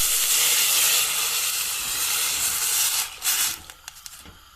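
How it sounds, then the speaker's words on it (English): Stock is poured into a hot pan of frying onion and garlic, a loud, steady steaming sizzle and hiss that fades toward the end, leaving a few small clinks. "Now it's ready to put the stock in this pan. Okay, I add this stock."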